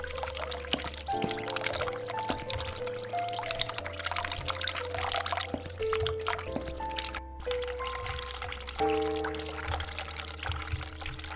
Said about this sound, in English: Okay, let's turn off the tap.